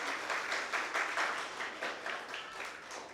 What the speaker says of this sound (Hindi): ताली ताली रुकना नहीं चाहिए, जोर से ताली.